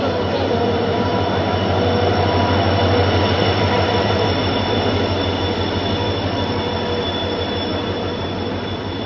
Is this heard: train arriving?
yes